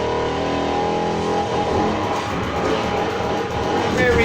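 Infiniti Q60 S '17 engine in Need for Speed Heat, a loud, steady sustained drone with throttle variations, close and continuous throughout.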